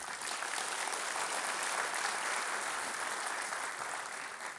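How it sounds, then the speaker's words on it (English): A hall audience at a Long Beach city development update breaks into loud, sustained applause, a dense, steady wash of clapping that holds at full strength for the whole stretch with no voices on top. "So let's give them a big round of applause."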